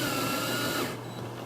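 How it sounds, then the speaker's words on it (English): A power drill runs screws into a kayak deck, a steady whirring motor close by that cuts off abruptly partway through, leaving a faint hum. "You can run your screws in there with the drill"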